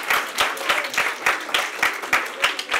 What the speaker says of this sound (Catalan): Aplaudiment per elles